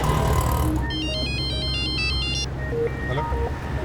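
An unanswered phone rings with a bright, repeating electronic ringtone pattern for about a second and a half over a constant low background drone.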